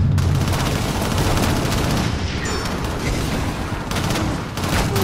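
Dense gunfire from the video game Shadowrun, loud continuous bursts of overlapping shots and rattling automatic fire that barely let up across the whole stretch.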